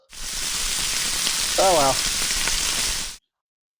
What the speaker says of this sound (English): we're going to hit a little bit of oil and wait for it and wait for the sizzle.